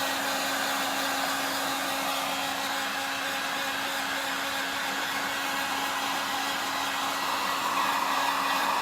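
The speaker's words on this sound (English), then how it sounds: "So here's the heat gun. I know this is a bit noisy." A heat gun blows hot air onto shrink wrap with a steady, loud whooshing drone and a faint electric hum underneath, unchanging throughout.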